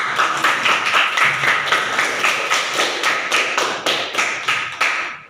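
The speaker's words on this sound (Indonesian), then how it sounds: "Coba tepuk tangan untuk kelompok 2." A classroom of students claps steadily together for a student group, a dense, even round of applause that fades slightly toward the end.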